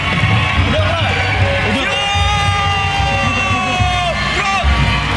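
A studio audience at a live Indonesian television show roars with loud, continuous cheering and yelling, many voices shouting over one another throughout with no pause.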